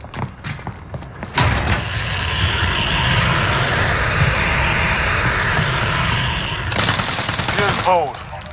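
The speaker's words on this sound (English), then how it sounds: "cruise missile away" A cruise missile flies through the air in Call of Duty Modern Warfare as a loud, steady roaring rush, abruptly cut in and sustained for several seconds, with gunfire crackling around it near the end.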